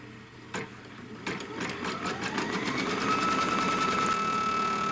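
An embroidery sewing machine tacks down a piece of batting for a mug rug, giving a rapid, steady mechanical stitching whir that starts with a few separate clicks and then settles into continuous close, loud running with a rising whine.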